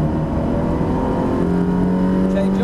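A Ferrari 360 accelerating on the Brands Hatch race track, heard from inside as a loud, steady engine drone with rising tonal harmonics as the revs climb, dominating throughout.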